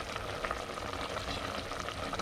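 A pot of Thai-style pork belly stew with eggplant bubbling, a dense, continuous rumbling boil heard close with no break.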